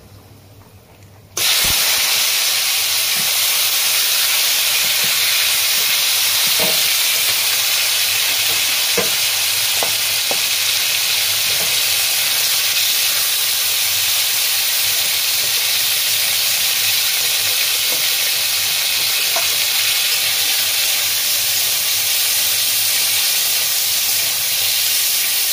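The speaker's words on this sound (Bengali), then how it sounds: "প্রথমেই মাংসটা আমি ফ্রাই করে" Chicken mince fries in hot oil with turmeric in a kadai, giving a steady loud sizzle and hiss that starts abruptly and runs on, with occasional scrapes and clinks of stirring.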